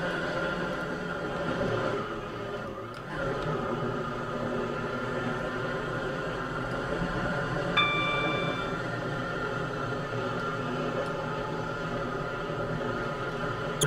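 A Class 720 train running in the Roblox game Stepford County Railway gives a steady electric hum and rumble, with a brief chime partway through.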